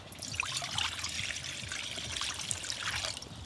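Water poured into a pot to boil masoor dal on a home kitchen stove, a soft continuous trickle and splash lasting a few seconds, fairly quiet and close, with no talking.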